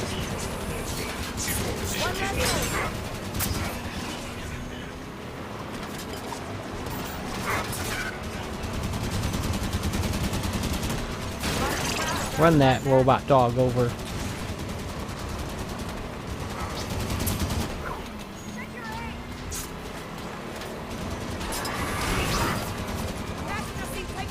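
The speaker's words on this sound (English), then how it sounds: "Barrel's overheating, even though it's a rotary cannon" Rotary cannon gunfire in Halo 5 rattles in bursts amid vehicle noise and explosions, with a rapid stuttering spell in the middle, while someone talks over the action.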